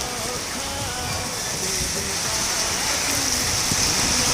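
Steady, dense rain pours down in Makkah and hisses across the whole clip. Faint voices can be heard under it.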